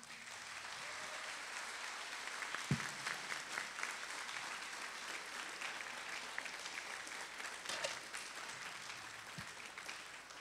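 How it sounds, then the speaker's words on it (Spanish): An audience at a book presentation bursts into sustained applause, a continuous roomful of clapping lasting several seconds, heard from a distance and free of speech. "Pero con un fuerte aplauso reconozcamos este trabajo."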